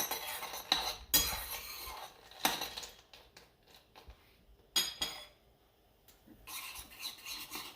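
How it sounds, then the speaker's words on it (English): Spoons stir white chocolate in a pot, close metallic scraping and rubbing strokes in uneven bursts separated by brief quiet gaps. "Stir the white chocolate."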